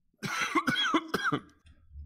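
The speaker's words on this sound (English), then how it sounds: "You get the coughs." Several harsh coughs in a quick burst, close and loud, followed by a short quiet pause and a faint low rumble.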